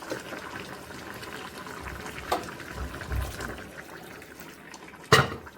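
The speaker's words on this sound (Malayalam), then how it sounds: "ഇനി നമുക്കിതിലേക്ക് നല്ല കട്ടിപ്പാൽ ചേർത്ത് കൊടുക്കണം" Thick coconut milk is poured into a simmering chicken kappa stew, a soft bubbling and liquid pour close by, ending with a sharp clink of a utensil against the pot.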